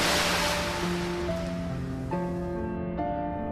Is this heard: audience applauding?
no